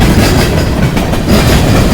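Union Pacific heavy manifest freight train rumbling past in the mountains, very loud and close, with continuous low rumble and rhythmic clickety-clack of wheels over rails.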